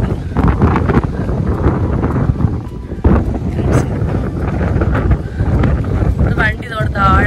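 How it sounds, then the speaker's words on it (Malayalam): Strong wind at the Ramakkalmedu wind farm in Idukki buffets the microphone, producing loud, gusty low rumbling throughout while people talk over it. "നല്ല കാറ്റുണ്ട്."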